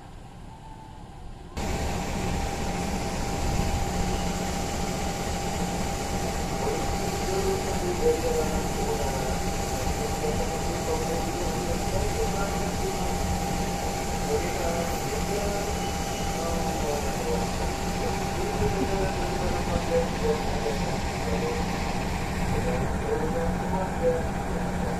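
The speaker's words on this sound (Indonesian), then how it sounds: "Nah, ini dia masuk kereta api lokal Merak." After a brief quiet moment, a steady rumbling train noise sets in and continues, a loud rolling drone of the Merak local passenger train arriving at Jambu Baru station.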